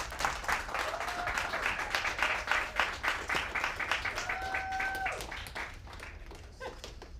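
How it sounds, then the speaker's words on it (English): Studio audience at the Barstool Idol finale clapping and cheering for a contestant, a rhythmic wash of applause with a few whoops, fairly loud at first and then thinning out. "It's a little loud cheering there for him."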